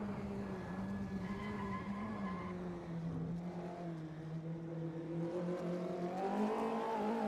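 An Audi race car at Sonoma Raceway drones faintly in the distance, its engine note rising and falling through gear changes and revs as a steady, muffled hum.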